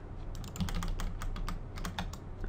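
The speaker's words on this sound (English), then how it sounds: "So just keep undoing, pressing Ctrl Z on the keyboard until you're back to where you're pretty sure that there are no extrusions." Computer keyboard keys pressed repeatedly, as when hitting Ctrl Z to undo while modelling in Maya; a quick irregular run of light clicks, close and fairly quiet.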